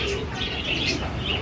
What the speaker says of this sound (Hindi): ये देखिए गरेबाज हाई फ्लायर्स कबूतरों का लॉट आया हुआ है, देखिए 10 पीसेस का।